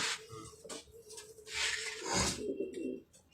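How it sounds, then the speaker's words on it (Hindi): A golden pigeon coos softly in a few low, rounded calls, close by, with faint background noise and rustling between them. "अब ये देखिए, ये भी एक नायाब है गोल्डन कबूतर।"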